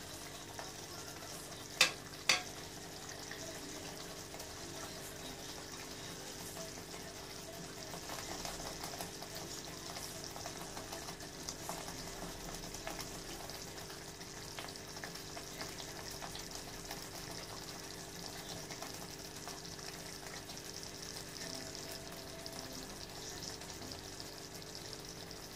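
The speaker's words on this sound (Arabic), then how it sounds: "دابا خوتي غادي نزيد الكفته على هاد لاصوص" Kofta meatballs simmer in sauce with a faint, steady sizzle and bubbling, preceded by a couple of brief clicks near the start.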